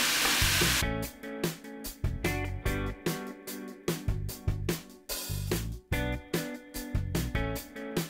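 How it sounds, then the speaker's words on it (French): Chicken and vegetables sizzle loudly in a hot wok while being stirred continuously, the frying hiss broken by a steady rhythm of scraping strokes, close up with no voices. "je ne m'arrête pas de remuer ce qu'il y a dans le wok"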